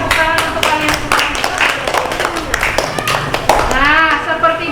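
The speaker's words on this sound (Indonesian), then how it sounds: "tepuk tangan untuk kalian semua" A class claps in scattered, uneven rounds while children's voices and chatter run loudly over the applause throughout.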